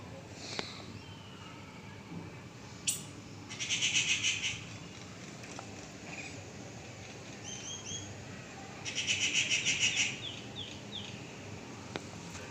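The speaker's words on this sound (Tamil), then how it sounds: "இந்த பறவையோட சவுண்டு வந்து ரொம்ப சூப்பராக இருக்குது" A bird calls twice with a rapid, buzzy trill, separated by scattered short chirps over quiet outdoor ambience.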